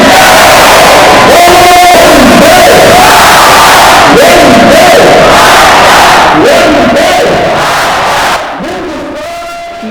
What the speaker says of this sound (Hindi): दोनों तरफ के उपस्थित दर्शक नारे लगाते हैं।